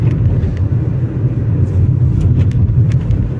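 A car driving along, heard from inside as a loud, steady low rumble of engine and road noise with a few faint ticks and clicks over it; no talk.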